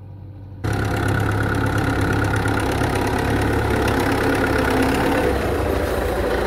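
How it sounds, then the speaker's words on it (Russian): A tractor engine idles steadily while pumping sewage from a tank trailer at a manor estate, starting abruptly and holding a constant loud, low chugging drone with no talk. "Вот этот трактор"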